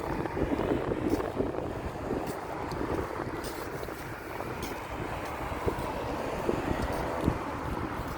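Wind buffets the microphone in a continuous rough rumble on the way to a subway station, with a faint steady hiss and no voices.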